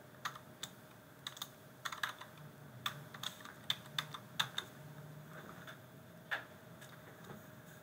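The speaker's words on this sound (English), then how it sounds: "Once you type in your username and password" Typing on a computer keyboard: irregular bursts of close, crisp key clicks in quick clusters, thinning out toward the end over a faint steady hum, no talk.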